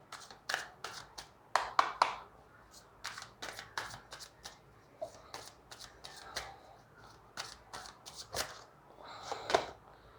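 Chakra Wisdom Oracle cards being shuffled by hand, a series of crisp riffling bursts and soft slaps repeating irregularly, close and clear in a quiet room with faint talk at times.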